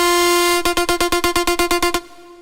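A Serum synth preset playing a bright, horn-like held tone that breaks into a rapid, even stutter of about a dozen pulses near the end before stopping, heard alone.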